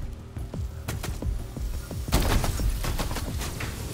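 Rapid gunfire aimed at alien invaders in VR Invaders, a fast string of sharp shots that grows denser and louder partway through and carries on as volleys.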